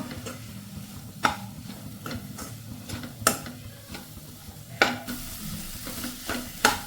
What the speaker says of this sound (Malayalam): എന്നിട്ട് ഇളക്കുക ഈ സമയത്ത് ആവശ്യത്തിന് ഉപ്പും കൂടി ചേർത്ത് കൊടുക്കാം കേട്ടോ